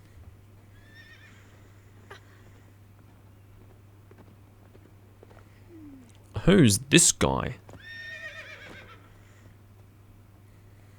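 A horse in Zelda: Breath of the Wild lets out a loud, close whinny in the middle, trailed by faint hoof clops; a voice speaks briefly, and quiet ambience runs beneath.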